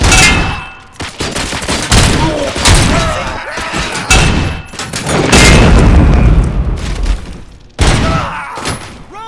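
Heavy explosions and bursts of gunfire roar through a Robocop: Rogue City gunfight, loud booms and rattling volleys following one another closely, with shouted voices mixed in.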